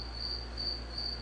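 A cricket chirps indoors, close by, as a steady high, pulsing trill over a low room hum.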